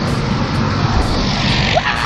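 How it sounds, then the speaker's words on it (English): A skydiving airplane's engine gives a steady, fairly loud broadband roar that continues unbroken outdoors, with no clear speech over it. "There's our airplane."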